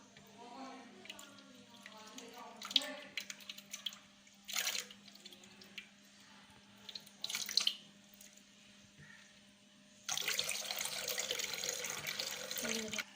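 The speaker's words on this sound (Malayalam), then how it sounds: "അപ്പോൾ നമുക്ക് അതിലോട്ട് കുറച്ച് ടീ ഒഴിക്കാം." Tea being poured into a jar of milk for a chilled tea shake: scattered drips and short splashy bursts, then a sustained, steady pour near the end, quiet and close.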